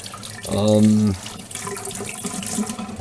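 Tap water runs into a kitchen sink for about half a second as hands are rinsed of bacon juices, a brief splashing gush followed by quieter dripping and handling noises.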